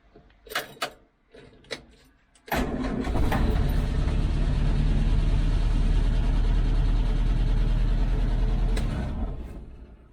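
After a few faint clicks and clunks, an old Series 2a Land Rover, running a bit rich with the choke out and its battery just reconnected, catches at once and settles into a loud, steady idle that drops away near the end.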